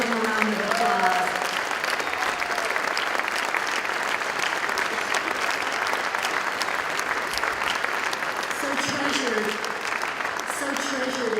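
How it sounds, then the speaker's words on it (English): An audience at a live event honouring a retiring LAPD officer breaks into sustained applause, a dense, even wash of clapping with some crowd murmur and brief vocal sounds mixed in. "Let's give him a round of applause."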